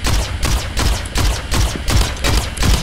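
Rapid bursts of pistol fire in the video game Armored Head repeat in a steady rhythm, loud and punchy, about eight shots in quick succession.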